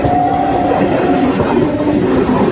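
Train rushing past fast at close range, a steady dense roar of wheels and carriages with a faint tonal whine, no voices.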